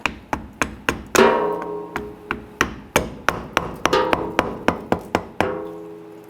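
A pry bar being struck to break the differential cover seal loose on a 1997-2006 Jeep Wrangler, heard as a steady series of about twenty sharp metallic taps with ringing decay, close and clear.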